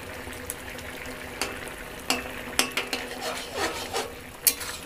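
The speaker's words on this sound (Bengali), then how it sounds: "একটু ঘি দিয়ে নেড়ে চেড়ে নামিয়ে নিচ্ছি।" A utensil scrapes and clinks irregularly against a pan while cauliflower and potato curry with ghee is stirred, a close series of sharp knocks over a faint low sizzle, with no talking.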